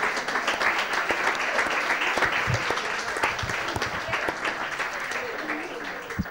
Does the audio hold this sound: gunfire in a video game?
no